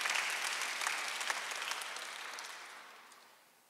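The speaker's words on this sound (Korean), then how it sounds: "박수 한번 하세요" A church congregation claps together during a Sunday worship service, a dense, steady wash of many hands that gradually fades toward the end, heard alone without talk.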